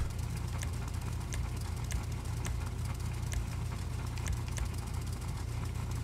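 The engine of a Vapid Dominator GTT sports car idles in the GTA V video game, giving a steady low rumble with faint rhythmic ticking, loud and continuous throughout.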